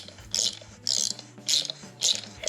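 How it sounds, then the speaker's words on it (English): A hand ratchet clicks as it tightens a shock mount on an R56 Mini Cooper S, four short bursts of rapid metallic ticking in an even rhythm, close and fairly quiet with nobody talking. "our ratchet, we're gonna lefty-loosey to actually tighten this up"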